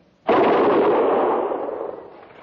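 A single massed rifle volley from soldiers, staged as a radio drama sound effect at a frontier fort: one sharp loud crack followed by a long, slowly fading rumbling decay, with no voices over it.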